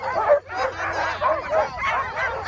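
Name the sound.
sled dogs barking and yipping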